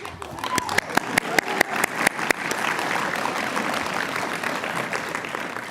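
Applause at a law school unity celebration begins with a few sharp, distinct claps, then swells into a steady, even wash of crowd clapping.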